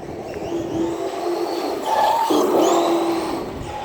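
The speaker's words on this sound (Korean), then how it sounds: "아, 브레이크 소리 딱 들리죠?" A small RC car fitted with a 2700kv motor whirs as it runs past, its high-pitched motor tone dropping sharply as it brakes partway through, all under steady outdoor background noise.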